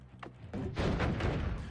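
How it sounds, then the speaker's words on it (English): Fireworks go off in the video game Noita, a soft thump followed by a dense, sustained crackling rumble of explosions close by, with no talking. "The fireworks are exploding way early."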